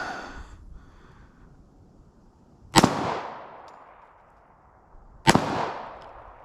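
Two loud pistol shots from a Rock Island Armory 1911 fired at a ballistic shield, sharp cracks about two and a half seconds apart, each followed by a short echoing decay, with a faint breath before the first.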